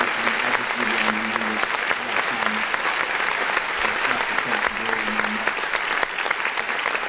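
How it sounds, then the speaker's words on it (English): A roomful of people gives sustained, dense hand clapping that holds steady and loud throughout, with voices mixed in beneath the applause. "all new people get hand claps and welcomes"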